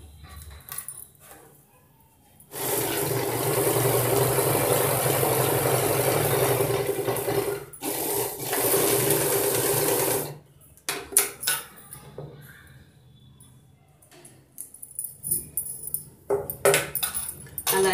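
A sewing machine stitches fabric for a phone pillow stand, running in two loud close bursts of steady whirring separated by a short pause, followed by quieter handling clicks and rustles.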